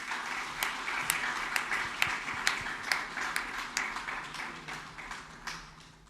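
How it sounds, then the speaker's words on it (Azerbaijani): A concert audience claps steadily for a few seconds, loud individual claps standing out from the crowd's applause, which fades slightly toward the end. "Və gəlin alqışlarınızla Mircəlal müəllimi səhnəyə dəvət."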